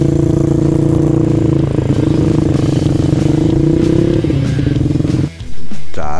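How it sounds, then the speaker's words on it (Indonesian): Trail motorcycles fitted with Norifumi exhausts ride a rocky path, engines droning loud and steady close by with some clatter over stones, before the sound drops away abruptly near the end. "Ini untuk knalpotnya pakai Norifumi semua ternyata."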